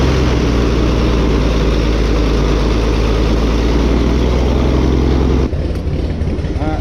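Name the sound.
Baron aircraft engine starting and running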